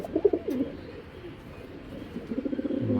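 A male pigeon of a fancy breed with aluminium-style colouring coos in repeated low throaty bursts, close by, with a quieter lull in the middle before the cooing resumes louder.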